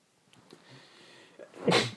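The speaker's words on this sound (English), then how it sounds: "Sorry, everyone, I sneezed." A single sharp human sneeze bursts out near the end, preceded by a faint intake of breath in a quiet room.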